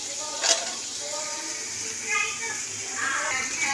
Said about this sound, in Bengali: এই যে পেঁয়াজটা একটু ভাজা ভাজা হচ্ছে